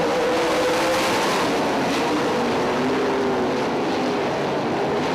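410 sprint cars roar around the 3/8-mile Lawrenceburg Speedway dirt track in a loud, continuous engine drone with shifting pitch as the cars pass, heard from the stands.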